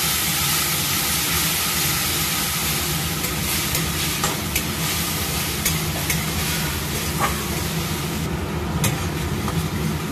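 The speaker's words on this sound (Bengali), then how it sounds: "গুঁড়ো মশলা, তাই একটু সামান্য জল দিলাম মশলাটা কষানোর জন্য।" Ground spices with ginger paste and a splash of water sizzle and bubble steadily in a hot pan, a continuous close frying hiss with occasional stirring scrapes and no talk.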